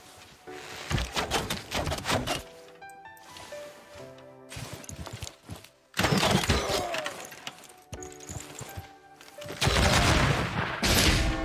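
Bursts of rapid gunfire and crashing volleys from units firing in the strategy game Civilization 6 come in several loud clustered salvos separated by brief quieter gaps, with short tonal game sounds between them.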